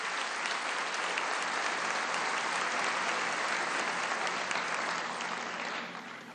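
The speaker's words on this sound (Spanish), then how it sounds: "Un aplauso a nuestros hermanos del Gran Polo Patriótico." Steady, dense applause from a large audience at a socialist party congress in Venezuela, loud and unbroken for six seconds before starting to fade at the end, with no talking over it.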